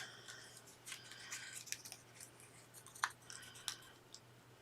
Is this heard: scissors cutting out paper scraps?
yes